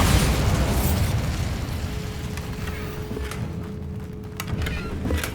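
Bombarda spell blast in the video game Hogwarts Legacy, a dense rumbling explosion that starts loud and decays slowly over several seconds, with a faint tonal hum and scattered crackles in the tail.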